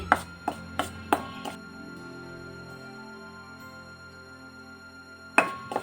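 Dry batter ingredients, cornflour and baking soda, mixed in a bowl for a jackfruit chop batter, giving a few sharp taps and scrapes near the start, a quiet stretch, then more clinks at the end.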